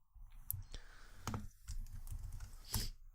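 Keys on a computer keyboard are tapped in short bursts of clicks, close and fairly quiet, with brief pauses between the keystrokes.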